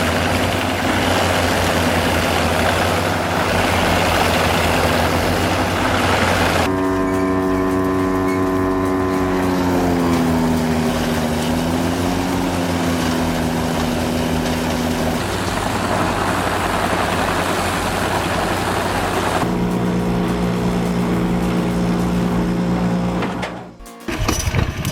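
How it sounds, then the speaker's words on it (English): Heavy engine of a Maxim 1050 HR wood chipper rated at 362 horsepower, a loud steady drone that shifts pitch midway as the load changes, running continuously with no voices before cutting off abruptly near the end. "With a thunderous 362 horsepower engine, it shreds massive logs in seconds."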